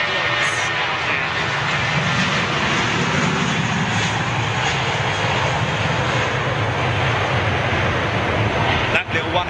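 A jet airliner departing Heathrow Airport roars loud and steady throughout, a broad sustained engine rumble and hiss, with a person's voice talking over it.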